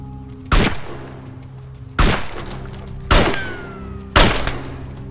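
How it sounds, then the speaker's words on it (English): Four loud gunshots are fired into a door in the video game DayZ, each a sharp crack with a short fading tail, spaced about a second apart over a low background hum. "I'm gonna fire some shots into the door"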